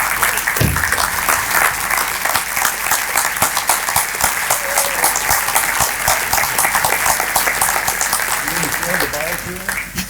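Audience applauding at a county and city address breakfast event, a dense steady roar of many hands sustained throughout and tapering slightly at the end.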